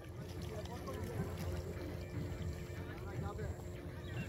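Tourist boat cruising on Dimna Lake in Jharkhand: a low, steady motor hum drifts from a distance over light wind, faint and continuous.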